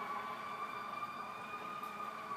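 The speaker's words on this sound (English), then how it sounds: "You guys know that I cannot do a video without sirens." Emergency vehicle sirens wail in the city, a steady sustained tone over a dense background of traffic rumble.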